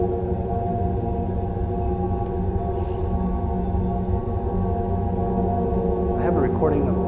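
Deep, steady sustained drone recorded inside a Tibetan meditation cave, a dense layered hum holding constant and unbroken throughout, with no voices.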